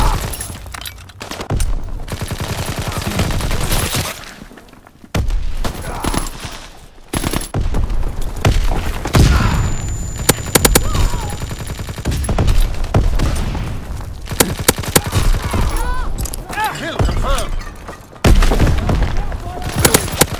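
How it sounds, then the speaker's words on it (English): Heavy machine-gun fire from a strafing run rattles in dense, loud bursts with booming impacts in Call of Duty: WWII, nearly continuous for the length of the clip, with brief spoken game announcements mixed in. "Strafing the target."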